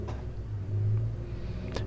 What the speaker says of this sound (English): you heard it there, pace car is moving.